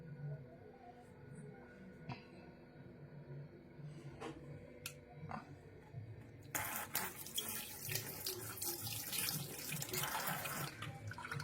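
Tap water runs while the paste for a homemade shampoo is mixed with water, a soft trickle at first that becomes a loud, steady gush of faucet water over the last few seconds.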